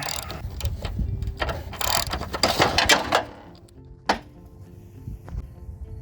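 Ratchet with a 21mm socket working a rear bumper bolt loose on an OBS Ford F-150, bursts of rapid clicking with pauses between, close and clear, ending with a single metallic clack.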